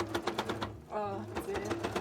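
A sewing machine rattles in quick rhythmic bursts while stitching fabric scales for a costume tail, close and steady, with a brief pause and a person speaking partly over it.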